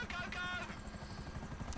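A helicopter in the video game GTA V Online thrums with a low, rapid rotor pulse under people talking. A brief tonal whine sits above the chop near the start.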